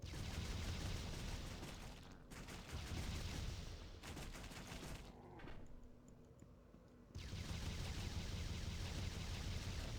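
Rapid-fire weapon in the Warcaster game shooting in long continuous bursts, broken by two short pauses and a quieter gap in the middle before firing resumes at full loudness; no talk.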